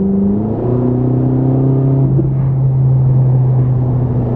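Ferrari 458 engine revving loudly and close, a sustained low rumble with rising harmonic tones as the revs climb and hold, with no talk.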